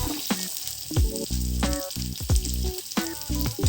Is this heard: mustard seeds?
yes